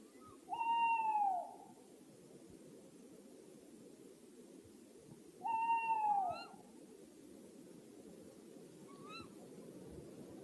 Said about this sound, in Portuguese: Estas corujas, tal como a maioria das outras espécies, têm mais do que uma vocalização.